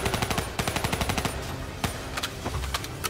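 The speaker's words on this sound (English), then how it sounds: "I shoot him with my gun." Rapid bursts of automatic gunfire in the Black Ops 3 campaign, loud close rattling shots in quick rhythmic strings with a few sharper single cracks near the end.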